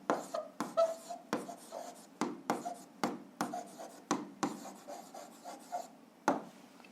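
Pen strokes scratching across paper as an answer is written out by hand, a close series of short rhythmic scrapes with brief pauses, for an algebra exercise.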